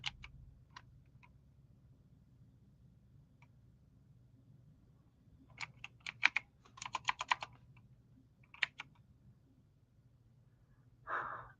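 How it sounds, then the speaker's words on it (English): Scattered computer keyboard key clicks, sparse at first then a quick burst of typing, close and fairly quiet against a low background hum. "I'm just typing in."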